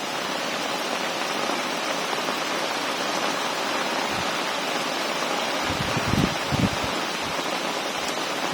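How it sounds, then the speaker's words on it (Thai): Heavy rain pours steadily during a thunderstorm in a Thai village, a dense, even hiss throughout with a few low rumbles near the end. "ฝนตกแรงมากเลยนะครับในขณะนี้"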